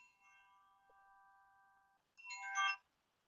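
A phone ringtone goes off during a Zoom recording: a steady electronic tone plays for about two seconds, then a brighter, louder burst of ringing chimes follows before it cuts off. It is fairly close, with no talking.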